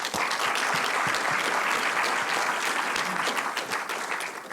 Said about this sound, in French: Je pense qu'on peut les applaudir une dernière fois.